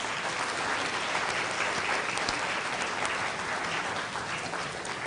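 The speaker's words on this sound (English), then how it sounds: "Everyone, let's give our newly invested member of the Girl Guide and Girl Scout movement a round of applause." A crowd at a Girl Scouts of the Philippines investiture ceremony gives a steady round of applause for a newly invested member, dense even clapping at moderate distance.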